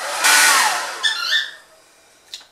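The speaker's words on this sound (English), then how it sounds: "blow dryer." A handheld blow dryer drying latex Halloween make-up roars on loudly for about a second, then sputters and switches off, a brief whir fading near the end.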